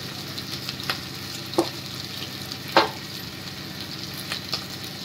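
Goat tripe fries with coriander powder in a pan, giving a dense continuous sizzle broken by a few sharp clinks and scrapes from stirring, close and steady with no voices.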